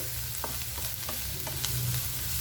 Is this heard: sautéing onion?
yes